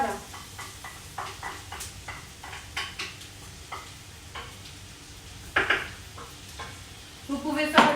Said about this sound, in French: On va rissoler nos oignons rouges.